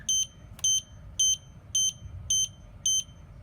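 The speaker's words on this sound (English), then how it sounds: "you're going to realize you get 6 beeps" Six evenly spaced, high-pitched electronic beeps from a Golden Technologies Literider mobility scooter warning while plugged in, loud and close against a low background hum.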